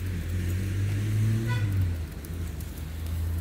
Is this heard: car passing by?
yes